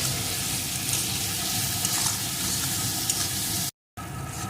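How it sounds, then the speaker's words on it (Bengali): A spice masala for ivy gourd curry is sautéed in oil in a pan. A steady, close sizzle runs throughout with a stirring scrape over it, then cuts out briefly near the end before resuming. "এখন সমস্ত মশলাটা সুন্দর করে একটু কষিয়ে নেব"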